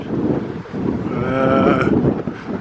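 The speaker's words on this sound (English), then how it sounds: "a bit windy, a lot of wind" Strong wind buffets the microphone with a loud, rumbling roar that swells and eases over a few seconds, with no voices.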